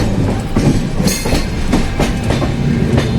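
Kota Katra Express rolling out of Jammu Tawi, a steady loud rumble of train wheels and carriages with rhythmic clickety-clack over rail joints throughout.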